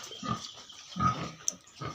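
Pigs grunting in short bursts on a small pig farm, close by and fairly quiet, with a brief sharp squeal in the middle.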